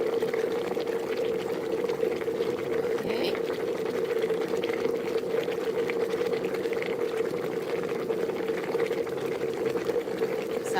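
An electric kettle boils water for steaming sinamay straw, giving a steady, loud rumbling roar with a strong low hum that holds evenly throughout, with no pauses or breaks.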